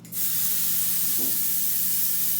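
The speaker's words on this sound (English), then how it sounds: "Now we're gonna do the Oribe anti-humidity spray" A single steady hiss of Oribe anti-humidity hair spray runs for a couple of seconds, close and even, with no voices.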